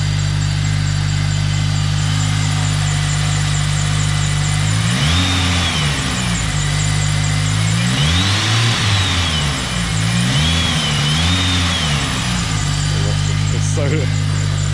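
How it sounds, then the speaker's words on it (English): Toyota Celica with a Rotrex supercharger, very loud near engine idling steadily, then a few quick throttle blips that rise and fall in pitch with a supercharger whine above, one longer rev in the middle. "I'll give it a little rev so you can see what it sounds like."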